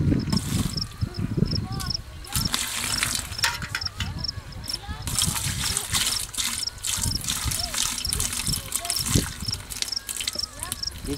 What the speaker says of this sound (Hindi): बाती के बाद भैया ये पानी डालते हैं 4 लीटर।